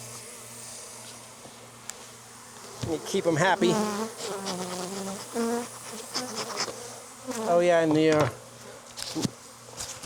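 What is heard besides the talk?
honey bees buzzing on the microphone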